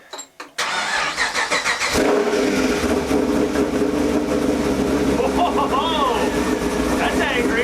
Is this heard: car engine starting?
yes